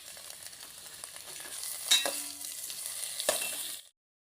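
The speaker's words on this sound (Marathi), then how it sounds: "आतां तितून टोमाट घालया आनी टोमाटूय भाजून काडया." Tomatoes frying with onions and green chili in a pan for Goan kurma, giving a steady close sizzle with a couple of sharper stirring scrapes before it cuts off.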